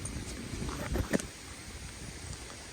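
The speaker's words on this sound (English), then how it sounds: "Yep, here comes some wind." Steady wind rushes and buffets the microphone, with a brief louder gust partway through and no voices.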